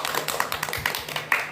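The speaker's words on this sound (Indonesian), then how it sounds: "Dua tepuk tangan dulu dong." Scattered hand claps from a small group of students at a school council talk show, coming as irregular, fairly close taps of varying loudness with no clear two-beat pattern.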